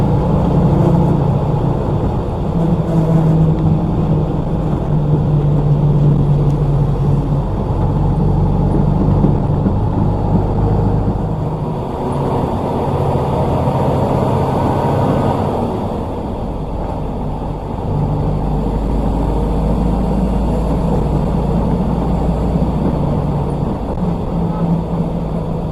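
A PO Sriwijaya bus rolls along a road in Bengkulu Tengah, its engine giving a steady, loud low rumble with road and cabin noise throughout and no talk.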